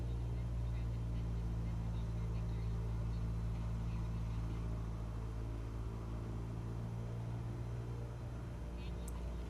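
A small aircraft taxiing in Microsoft Flight Simulator gives a steady, loud engine drone and low rumble that holds throughout with no breaks.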